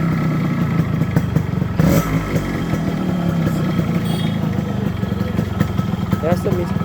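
A Yamaha RX 100 motorcycle engine idles and revs close by with a raspy, clattering two-stroke tone that runs throughout, while someone talks over it.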